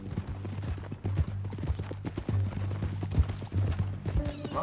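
Horse hooves in Red Dead Redemption 2 clop in a steady, close, rhythmic gait, with a low ambient hum running beneath.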